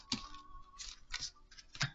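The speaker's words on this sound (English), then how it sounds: "not doing a good job shuffling here." A deck of oracle cards is shuffled by hand in soft, papery bursts of riffling and flicking. The bursts are uneven and fairly quiet, with no talk.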